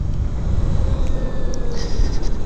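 A 2017 Zero electric motorcycle with belt drive hums along on a ride, a low rumbling road and wind roar carrying a faint rising whine, loud and steady throughout.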